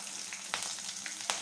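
Slit green chilies fry in hot mustard oil, a soft, continuous sizzle broken by a few sharp crackles and pops, close and quiet, with no talking.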